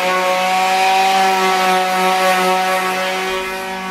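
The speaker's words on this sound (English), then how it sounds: "I will take my palm sander and sand this down a little bit" A palm sander smooths the edges of a wooden corner cabinet in a cargo trailer camper build. Its motor gives a loud, continuous whine up close that eases off slightly toward the end.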